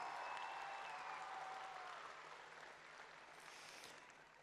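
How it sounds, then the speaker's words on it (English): Applause from a youth arts festival audience thanks the event's sponsors, a soft, distant patter of clapping that starts fuller and gradually thins as it fades. "Big round of applause for all of our fantastic sponsors"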